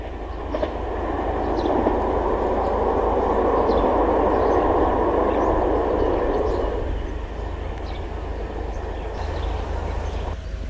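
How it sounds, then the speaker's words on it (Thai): A train passes through Phra Keo railway station in Phachi district, Ayutthaya, Thailand, with a loud, steady rolling rumble of wheels and carriages that eases off toward the end, plus faint clicks along the track. "ขบวนนี้เมื่อผ่านไปนะครับก็จะจอดอีกทีที่สถานีอยุธยาแล้วก็สถานีรังสิต"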